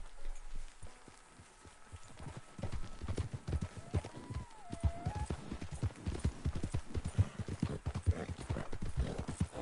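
Horse hooves clip-clop steadily in Red Dead Redemption 2, a fast, near rhythm of repeated strikes running the whole stretch alongside game sounds and a brief whinny-like tone.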